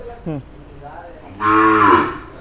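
A buffalo or cow in a cattle shed lets out a short grunt, then a long, loud, close moo, alone without talk.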